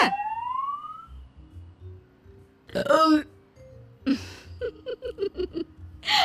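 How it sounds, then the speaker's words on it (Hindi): A daughter-in-law in a Hindi story lets out a short burp amid cartoonish sound effects, including a rising whistle-like tone and bursts of comic noise, with sparse voices. "आम का नाम सुनकर बहू फिर से एक डकार मारती है"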